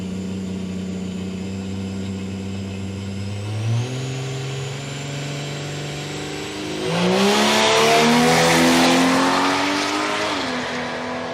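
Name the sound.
LDV van and Ford TC Cortina racing down a drag strip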